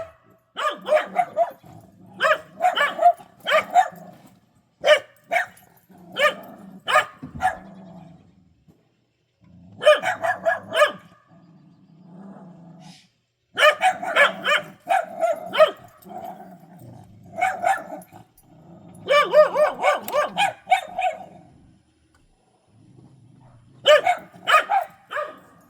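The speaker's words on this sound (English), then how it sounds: "Stupid dogs." Dogs bark loudly in bursts of sharp, repeated barks with short yips and some low growling, separated by brief pauses over about twenty-five seconds. The barking sounds close and clear, with no talking over it.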